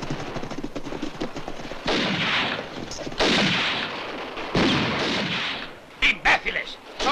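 A western film shootout among rocks brings repeated rifle and pistol shots cracking and echoing over a continuous soundtrack, with shouted voices between bursts.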